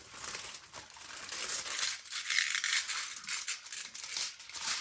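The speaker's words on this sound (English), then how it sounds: "The foil can stick to itself and it can rip, when you cut it like that with the scissors." Aluminium foil sheets are crinkled and pulled apart for a homemade Faraday bag, producing a steady close-up crackle of fine rustling and crumpling that swells and eases over a few seconds, with no talking.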